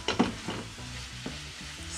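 A spoon stirs seasoned bobotie mince, with salt and pepper, browning in a hot pan, giving soft scraping strokes over a steady low sizzle, close and fairly quiet with no talking.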